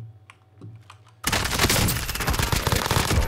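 Rapid automatic gunfire from the Call of Duty Warzone battle royale game erupts suddenly after a second of quiet clicking, then rattles on loud and dense to the end.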